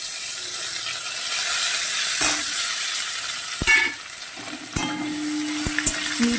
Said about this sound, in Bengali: আমি আদাটা ভেজে নিই